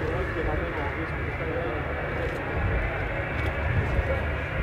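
Avro Vulcan bomber coming in to land at an airshow, its jet engines a steady, loud broadband roar that holds throughout without a break; a commentator talks over it.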